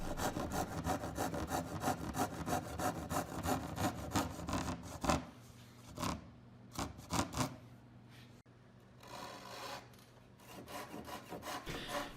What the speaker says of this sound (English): it looks like it might be time for me to get a new pull saw.